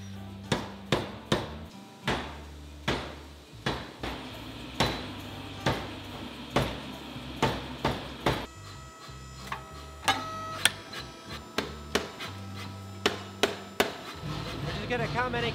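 Sharp metallic hammer strikes on hot metal at a forge ring out in irregular bursts, some quick double blows, with pauses between; close and loud over a low background hum.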